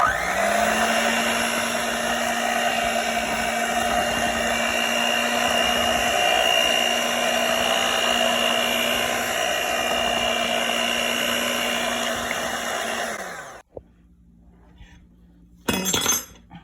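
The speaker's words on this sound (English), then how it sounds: "now it's time to mix" An electric mixer whirs steadily through apple cinnamon pancake batter, a loud, even motor whine lasting about thirteen seconds before it switches off, followed by a short clatter near the end.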